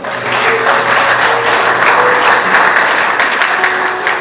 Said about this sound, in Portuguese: Pode dar um aplauso ao Senhor Jesus?